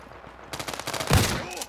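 Gunfire in a World War 3 video game, a rapid burst of loud close shots ending in a heavy thump, with a voice briefly under it.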